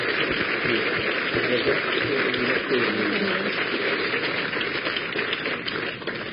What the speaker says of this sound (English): Our government also deserves a round of applause for the Climate Change Act